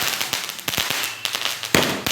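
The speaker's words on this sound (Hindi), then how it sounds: "ये वो 12 आवाज़ वाला पटाखा है, क्या बोलते हैं उसको, जो एक में 12 बार आवाज़ करता है" Sharp firecracker bangs from a twelve-bang Diwali cracker bursting overhead, about five loud cracks at irregular intervals over a steady outdoor hiss, with no voices.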